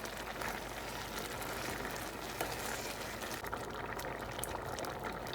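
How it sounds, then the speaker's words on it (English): A pot of beans porridge bubbling on the stove, a steady soft sizzle and simmer with faint gurgling, continuous and fairly quiet throughout. "my beans porridge is cooking"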